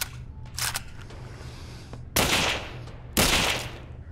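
Two loud, sharp sniper rifle gunshots ring out in the VR shooting game Gun Club VR, each a sudden broadband crack about a second apart, with a faint earlier shot and low background hum between them.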